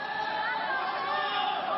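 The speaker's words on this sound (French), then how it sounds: "Sous les cris de la foule." A crowd shouts outside the courthouse in Sarreguemines, a dense, distant-sounding mass of overlapping voices and yelling that holds steady throughout the short stretch.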